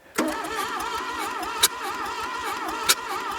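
Old Plymouth, buried for decades and not run in 32 years, cranking over to start: a close, rhythmic starter churn that keeps turning, with two sharp clanks along the way.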